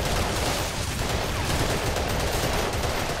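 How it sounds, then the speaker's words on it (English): Heavy enemy gunfire in Battlefield 2: Modern Combat, a loud, dense, continuous fusillade of rapid shots with no pauses. "Trapped by enemy fire!"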